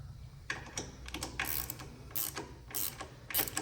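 A ratchet clicks in short bursts while snugging the bolts on a Villain motorcycle handlebar for a chopper install, the close, crisp ratcheting repeating several times over a low steady hum, with no talking.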